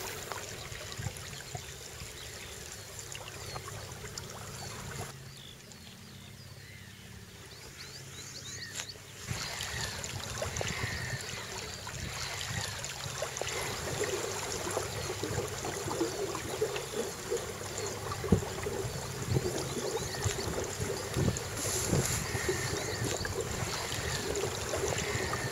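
Sea water laps and gurgles around a small duck punt on the open sea off the Norfolk coast between Wells and Blakeney, with continuous close trickling and sloshing that grows slightly louder partway through, with no voices.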